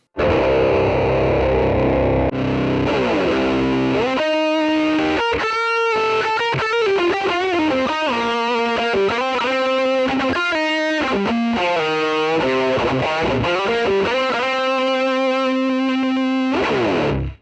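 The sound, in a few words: electric guitar through Mooer mini-modeller, drive block before amp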